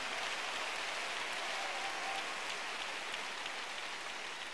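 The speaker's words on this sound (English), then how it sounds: "If you are clapping, make it bigger for Jesus." A church congregation claps together at a valedictory service, a dense, steady wash of many hands that sounds almost like heavy rain and holds evenly throughout with no voices.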